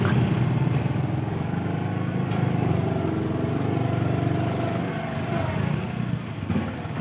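Motorcycle engine running steadily during a ride through a residential street, a continuous mid-level drone with road rumble and no pauses.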